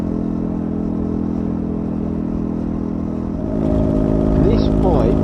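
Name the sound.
motorcycle engine riding at speed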